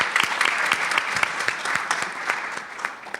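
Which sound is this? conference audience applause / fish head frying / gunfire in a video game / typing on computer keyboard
conference audience applause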